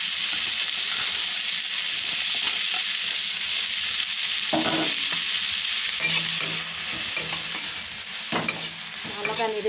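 Chilli, capsicum and chopped carrot stir-fry in a pan, giving a continuous loud sizzle with spatula scrapes and stirring knocks near the microphone.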